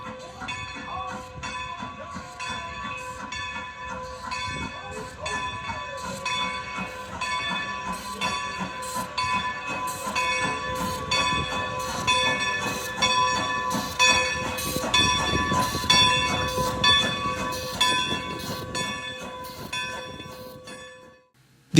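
Strasburg Rail Road train No. 90 pulling into the main station in Strasburg, with a steady rolling clatter of wheels, rhythmic metallic knocks and ringing tones, and steam hiss building as it draws closer.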